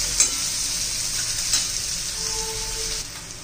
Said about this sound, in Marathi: चांगला परतून घेऊया कांदा, कलर चेंज होईपर्यंत, कच्चेपणा जाईपर्यंत।